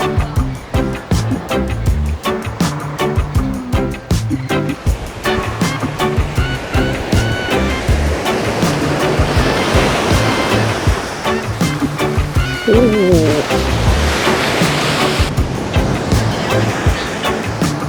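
Ocean surf rolls onto a beach on North Carolina's Outer Banks, a loud steady wash of breaking waves heard close up and mixed with wind and a vehicle rumble.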